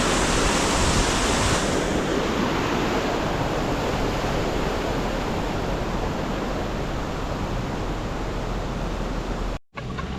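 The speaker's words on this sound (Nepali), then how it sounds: "खोला ठुलो रहेछ" A large mountain river in Lapchi, Dolakha, Nepal rushes loudly and constantly, a dense roaring wash of water close by, with no talk and a brief dropout near the end.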